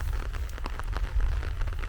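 Steady rain falls outside at a cow pasture, a dense continuous patter with broad low rumble and scattered drop hits, fairly close and without talk.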